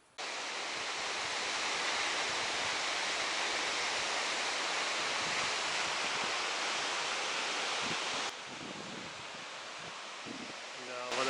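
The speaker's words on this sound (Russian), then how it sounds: "Да, водопад обалденный." Waterfall in a Brazilian canyon, a loud broad steady roar of falling water close by that fills the whole clip, dipping slightly near the end.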